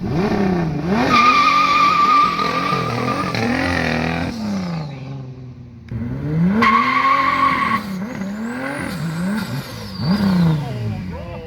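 Turbocharged Oldsmobile Cutlass wagon launching hard with screeching tire squeal and revving engine, two loud close bursts of acceleration separated by a brief lull, with shifting engine pitch throughout.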